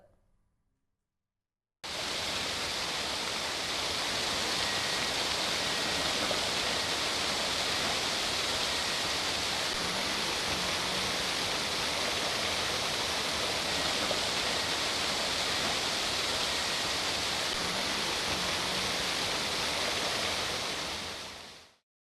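Floodwater after heavy rain rushes past where a section of highway in Udhampur was washed away, making a loud, continuous roar that holds steady for about twenty seconds, with no voices.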